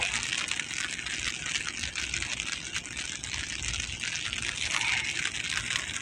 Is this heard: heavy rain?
yes